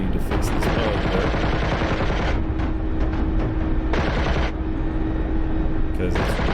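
Rapid bursts of automatic gunfire from a helicopter door gun in the DCS flight simulator, loud and continuous with short gaps between volleys, over a steady engine drone.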